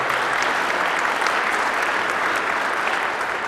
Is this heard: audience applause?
yes